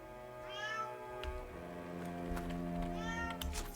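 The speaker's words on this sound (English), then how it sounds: "Shut up, cat." A cat in Dragon Age: Inquisition meows twice, clear rising and falling cries set over steady, droning game music, with a short gap between the two calls.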